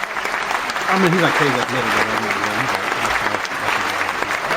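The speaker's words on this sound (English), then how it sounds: "I'm gonna try an applause soundbite." Applause soundbite played on a podcast, a long steady clap from a crowd that runs throughout while someone talks over it.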